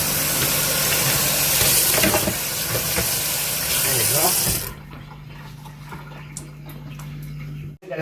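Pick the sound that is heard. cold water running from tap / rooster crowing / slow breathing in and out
cold water running from tap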